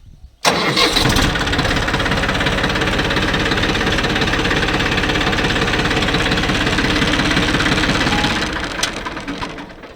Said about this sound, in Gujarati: હવે આપણે પુશ બટનથી ટ્રેક્ટરને સ્ટાર્ટ કરીએ.